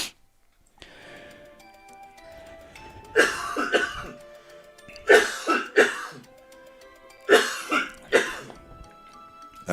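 A man coughs and clears his throat in several separate bursts, loud and close, with short quiet gaps between them and no speech.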